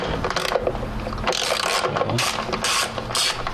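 A ratchet works loose a spark plug on a 2007 Nissan Sentra, giving close, steady clicking and grinding mechanical noise in continuous bursts with no talk.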